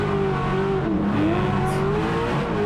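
Drift car engine held at full throttle during a competition battle run, a loud continuous high-revving roar with wavering pitch and hints of tire noise, no voices.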